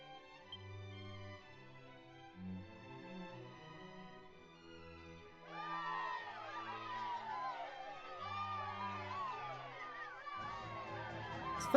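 A synthesized crowd cheers in the Dragon Quest I+II remake after a short tune of game music. The shouting swells in and carries on in a continuous jumble of voices, with music playing underneath.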